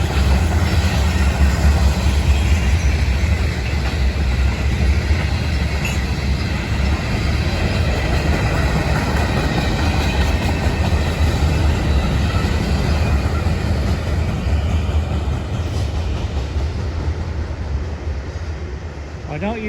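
A long freight train rumbles past up close, a steady loud roar of wheels and cars that holds without a break and eases slightly near the end.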